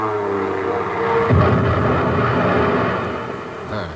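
An airplane engine drones steadily as the aircraft comes in for a bomb run over the sea near a submarine off the coast of India, a loud sustained roar that swells in the middle, with no talk.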